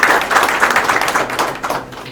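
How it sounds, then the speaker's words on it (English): A small audience at a meetup hosted by the Embassy of Switzerland in Ethiopia claps close and loud, with dense overlapping hand claps that fade slightly toward the end. "give a round of applause to Dagmar."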